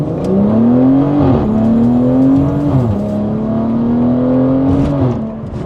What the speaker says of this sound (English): Just a small little launch, half throttle.